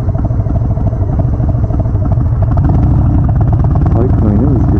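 A Harley-Davidson motorcycle on a night ride toward Oiarai, its engine a loud continuous low rumble from the rider's position, with no talking.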